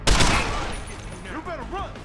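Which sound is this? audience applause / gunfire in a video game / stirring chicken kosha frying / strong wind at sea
gunfire in a video game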